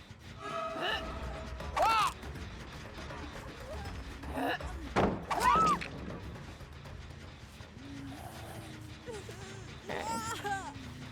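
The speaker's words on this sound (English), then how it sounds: "I hear someone on that gen" Creaks, ratcheting clicks and clunks from a generator being repaired in Dead by Daylight come in short bursts over a low ambient drone, moderately near, with a player talking.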